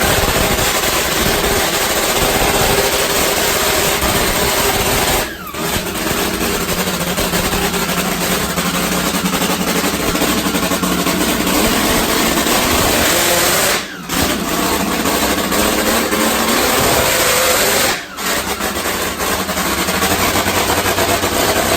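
Top fuel nitro drag motorcycle running during a fire-up at the track, a harsh, very loud rapid-firing engine bark sustained throughout, with a few brief throttle cuts punctuating the steady roar.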